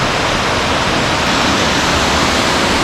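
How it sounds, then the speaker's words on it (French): The Cascade aux Écrevisses waterfall in Guadeloupe roars as a loud, steady, broadband rush of falling water that fills everything close by without any break, with no voices heard. "Maintenant nous voilà aux cascades, aux écrevisses."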